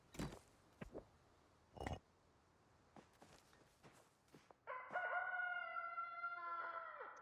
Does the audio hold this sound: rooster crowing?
yes